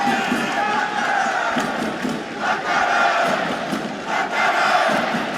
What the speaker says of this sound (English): You can hear Hangaram's name being chanted